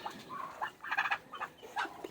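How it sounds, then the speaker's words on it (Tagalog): Chickens clucking nearby on a small farm, a string of short, soft, uneven calls that rise and fall over quiet background noise. "May sisiyo din ako na manok."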